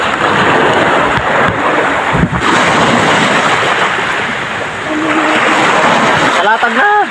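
Sea water sloshes and splashes into a nearly full wooden fishing boat at sea, a loud continuous churning wash with wind buffeting the microphone, and voices cutting in near the end.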